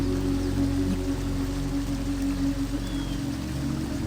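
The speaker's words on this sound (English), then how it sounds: "Sometimes all you need is to listen to the water." Vattayi waterfall in Thrissur, Kerala, a continuous broad rush of flowing, splashing water, steady and enveloping without pause.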